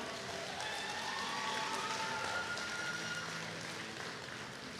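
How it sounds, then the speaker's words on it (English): Audience applauding at a secondary school graduation, a steady wash of clapping throughout, moderately distant and uniform. "Yes, you can applaud."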